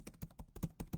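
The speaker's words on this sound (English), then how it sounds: "let me type in my good morning" Keys on a computer keyboard are struck in a quick, even run of about six close, soft taps with no other sound around them.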